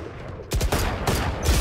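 Rapid gunfire bursts in the tactical shooter Valorant while strafing, loud and close, several quick volleys with short gaps, preceded by a quieter stretch of game ambience.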